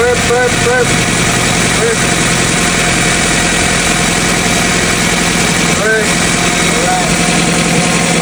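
A Toyota Corolla engine idling while warming up, with the thermostat not yet open: a loud, steady mechanical rumble close by with faint ticking and light vibration, under someone speaking.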